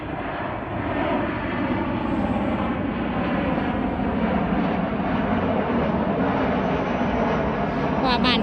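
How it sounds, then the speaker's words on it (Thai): A fixed-wing airplane passes overhead near an airport on a snowy day as the snow begins to melt, its steady engine roar loud and sustained through the whole stretch with no talk over it. "เครื่องบิน"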